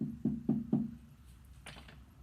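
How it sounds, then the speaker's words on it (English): Three firm knocks on a door in steady succession, fairly close and clear, followed by a faint rustle and quieter background. "Might have somebody knocking at the door,"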